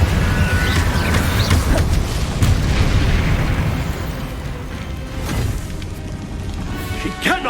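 Fiery Incendio spell blasts hit in the wizarding game Hogwarts Legacy, several booming bursts mixed with crackling combat effects and a dense, loud battle backdrop, with brief character vocalizations among them.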